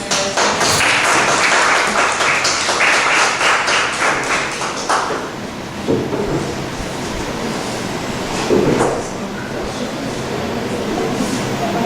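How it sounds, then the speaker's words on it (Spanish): Audience applause at an academic education conference, a dense burst of clapping from a room of people that swells in the first five seconds, then thins into scattered claps and crowd noise. "Le damos un aplauso a Diego."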